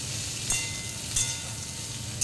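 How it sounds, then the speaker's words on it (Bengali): Chopped potatoes go into a hot pan for a vegetarian potato and pumpkin curry, with a steady oily sizzle broken by a few soft stirring scrapes, close and continuous with no voices. "এবার দিয়ে দেবো কেটে রাখা আলুগুলি। ভালোভাবে নাড়াচাড়া করে নেব।"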